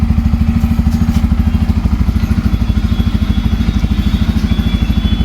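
A Bajaj Pulsar N250 with stock exhaust idles close by, its exhaust putting out a steady, rapid low thumping pulse that holds even throughout.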